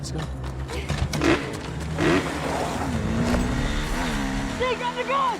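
A motorcycle engine revs and whines as it speeds off, its pitch sweeping up and down, mixed with voices and busy background commotion.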